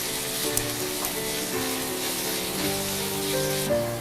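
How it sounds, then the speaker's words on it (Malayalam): Ginger-garlic paste, onion and green chili fry in a pan for a Kerala soya dish, giving a constant dense sizzle with faint stirring scrapes, close and steady throughout with no one speaking. "ഇപ്പം ഇഞ്ചി വെളുത്തുള്ളി അരച്ചതും സവാളയൊക്കെ പാകത്തിന്, പച്ചമുളകും ഒക്കെ പാകത്തിന് മൂത്ത് കഴിഞ്ഞു."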